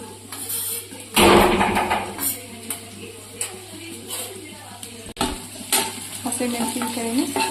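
Green chillies are stir-fried in a pan, with irregular bursts of spatula scraping and stirring over a soft, continuous sizzle.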